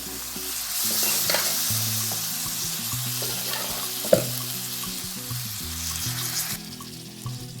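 Jackfruit seed masala sizzles steadily in a Kerala-style pan as a spoon stirs it, with close scraping strokes and one sharp clatter midway, no voices.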